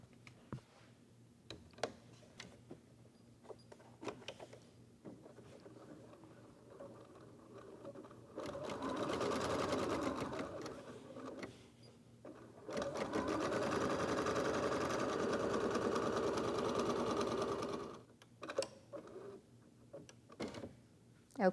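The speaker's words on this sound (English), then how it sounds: "we're going to take it back to the embroidery machine one more time" Embroidery machine running a stitch sequence on an in-the-hoop eyeglass case, a steady rapid mechanical patter in two long runs separated by a short pause, with faint handling clicks before and after.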